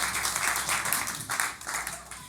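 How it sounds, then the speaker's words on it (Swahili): A congregation at a church service claps and applauds for the Lord, a brief, dense burst of hand claps with a few faint voices mixed in. "Makofi mazuri kwa Bwana."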